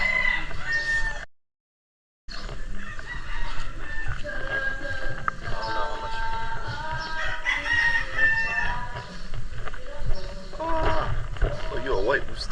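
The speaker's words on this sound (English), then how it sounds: "Oh, you're a white rooster." A white rooster crows loudly nearby on a Philippine island village, its calls mixing with clucking birds and people talking, with a brief silent gap early on.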